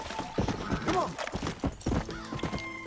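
A horse named Old Boy trots through Red Dead Redemption, its hooves clip-clopping in a quick uneven rhythm at close range, with a brief whinny and other game sounds layered around it.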